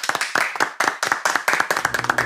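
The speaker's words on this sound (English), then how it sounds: "A round of applause for him." A classroom of students claps for a new teacher, a quick burst of close, sharp handclaps with a loose irregular rhythm over about two seconds.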